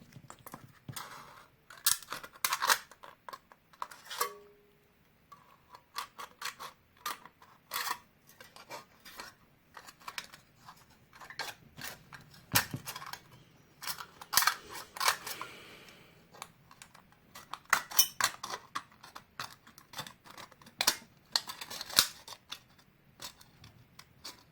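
Scissors snipping U shapes out of a thin metal tin can, a series of sharp, scattered clicking cuts and crinkles at close range, with short pauses between bursts of snips.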